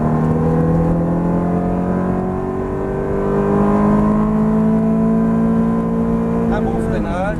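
A Ferrari F430 accelerates at full throttle on a track, its engine note rising steadily in a loud, close drone for several seconds, with an instructor talking over it.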